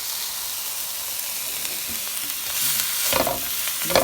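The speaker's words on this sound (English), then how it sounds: "Throw the bean sprouts in there." Bean sprouts stir-frying in a pan, a steady broadband sizzle throughout with louder scraping stirs near the end, close and alone without talk.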